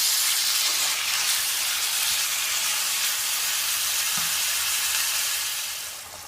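Ground beef browning in a frying pan sizzles in a steady, even hiss that stays close and constant, with a faint clink near the end and no talking.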